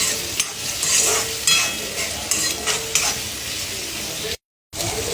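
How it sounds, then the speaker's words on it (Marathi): Tomatoes frying in oil for a Maharashtrian ridge gourd bhaji, a steady loud sizzle with repeated stirring scrapes; a brief dropout cuts the sound near the end. "आता याच्यामध्ये मी टमाटर टाकणार. हे बघा टमाटर पण मी टाकून घेतलेले आहे आणि टमाटर पण याच्यामध्ये चांगले फ्राय करायचे आहे"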